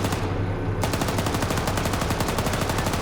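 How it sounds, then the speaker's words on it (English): Sustained automatic gunfire from an Arma squad training session in a military video game, a dense rattling burst that starts just under a second in and continues steadily and loudly, with no talk. "And now they're running into your gunfire."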